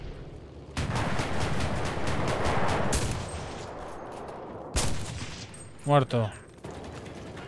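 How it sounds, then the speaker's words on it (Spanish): In the shooter game Enlisted, a long burst of rapid gunfire rattles for a couple of seconds, followed by scattered single shots and sharp bangs, while someone speaks briefly. "Ese es una ametralladora."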